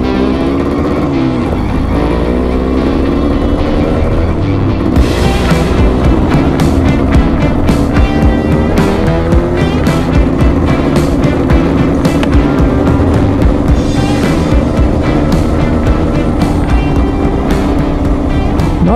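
Motorbike ride heard from inside a Voss 601 D2 dual sport adventure helmet: a steady engine drone and rushing wind run throughout, swelling louder around five seconds and holding with a rough, continuous roar.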